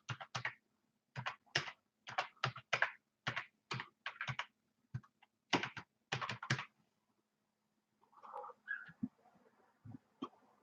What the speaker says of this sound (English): let me just try typing that URL again,